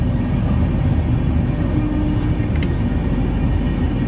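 The Digha to Puri Samudra Kanya Express rolls out of Digha station, a continuous loud low rumble of wheels and carriages heard from on board, steady throughout.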